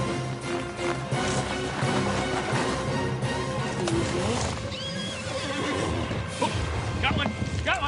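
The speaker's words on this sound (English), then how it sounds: "The horses are right there." Horses neigh and whinny repeatedly outdoors, close and loud, with hoof clip-clop and movement throughout and voices in the background during an attempt to steal the horses.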